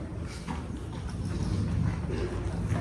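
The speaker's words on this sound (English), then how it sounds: "Everybody stop your horses." Horses walking during a riding lesson, hooves clip-clopping in a steady rhythm at close range, with faint voices in the background.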